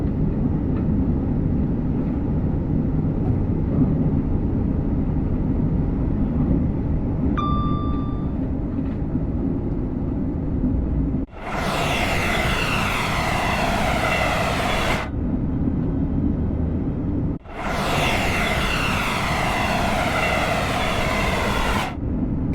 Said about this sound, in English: That was a 390 Pendolino coming from the opposite direction.